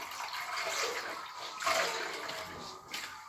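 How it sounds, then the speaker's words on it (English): Water and bleach pour into a mop bucket with a steady, hissing splash that swells and fades in brief surges, close and fairly quiet, with no voices. "So let's have a little bit more water on that and bleach."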